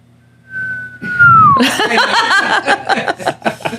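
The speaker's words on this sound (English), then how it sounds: "Who's whistling?" Someone whistles a single long sliding note that falls away, then a burst of close, loud laughter and chatter from several people takes over.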